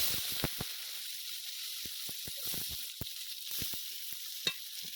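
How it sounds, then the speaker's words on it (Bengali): Dried red chillies, cumin and chopped tomato tempering in hot oil left from frying small bata fish, a steady broad sizzle with scattered sharp pops and crackles throughout, close and fairly loud, no voices. "এই তেলের মধ্যে আমি ফোড়ন দেবো শুকনো লঙ্কা, জিরে, একটা টমেটো কেটে রেখেছিলাম"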